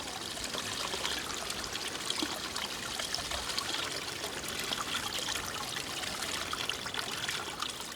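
Spring water at a self-sufficient hamlet streams and pours steadily in a constant close splashing rush, with no voices.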